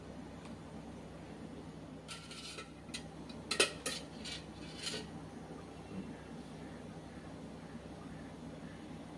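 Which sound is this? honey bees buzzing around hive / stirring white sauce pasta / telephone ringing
stirring white sauce pasta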